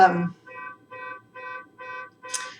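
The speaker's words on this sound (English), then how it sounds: "car alarm" A car alarm sounds outside in a steady repeating pattern of four evenly spaced electronic tones, moderately distant, following a brief bit of talk.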